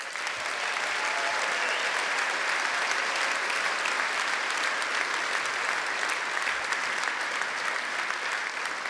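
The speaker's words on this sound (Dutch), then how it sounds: "En hier kan ze nog eens een daverend een fijn applaus geven." An audience at the Limburg carnival speech contest, the Groot Limburgs Buuttekampioenschap, gives loud, dense, sustained applause that fills the hall without a break.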